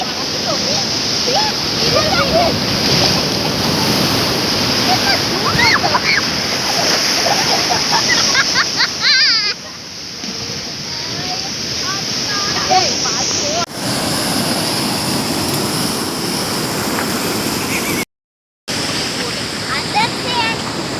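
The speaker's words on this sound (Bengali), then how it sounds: "কত জোরে ঢেউ আসছে দেখো" Waves crash and wash up a Mangalore beach in a continuous roar, with wind buffeting the microphone, and the sound cuts out briefly near the end.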